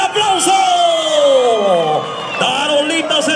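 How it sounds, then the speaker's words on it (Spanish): Rodeo crowd in Texcoco, Mexico, cheering and whooping loudly, with shouts and an announcer's voice rising over the roar of the stands. "Si ustedes creen que el campeón de la ruleta es Tarolitas, ¿cuál es el aplauso?"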